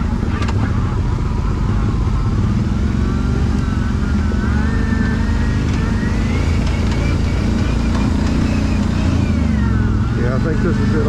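A Can-Am Outlander 1000 ATV grinds along a trail in low gear toward a river, its engine a loud, close, continuous rumble with rising whine, while riders talk over it.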